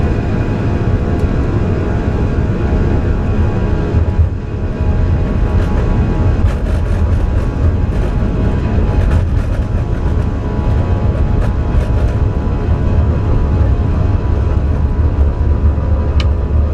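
Airliner engines roaring during the takeoff roll from runway 01, a loud, steady low rumble heard from inside the cabin that fills the whole stretch with little change.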